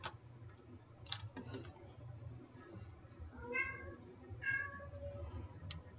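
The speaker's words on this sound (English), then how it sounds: "I'm sorry if you hear my cat." A pet cat meows indoors, a couple of short drawn-out cries in the middle, faint and somewhat distant against quiet room noise with scattered light clicks.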